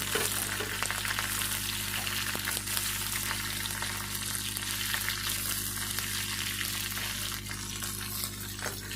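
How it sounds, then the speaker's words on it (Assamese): Sliced brinjal frying in a pan with dried bamla fish and chopped raw green chillies gives a steady, close, continuous sizzle with occasional stirring scrapes, and no one speaks. "কাটি ৰখা বেঙেনাখিনি দি দিম। ভালকৈ মই ভাজি ল'ম।"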